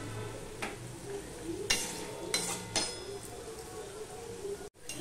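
Soft sizzle of shredded potatoes frying under several scraping, clinking strokes of a spatula against a pan, spaced irregularly and close.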